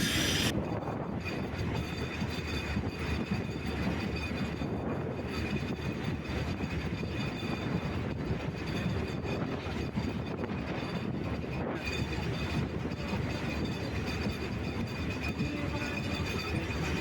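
Rangpur Express, a meter-gauge passenger train, passes close by a level crossing near Saidabad railway station with a loud, continuous rumble of wheels and carriages, faint wheel squeal and rhythmic clatter, sustained for the whole stretch.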